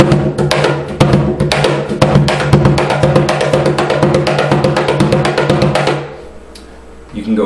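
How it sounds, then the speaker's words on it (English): Cajon played with alternating low bass tones and high slap tones in a quick, even groove of close, crisp hits, ending abruptly after about six seconds with a quiet pause and a faint sound at the close. "The low tone and the high tone in combination sounds like."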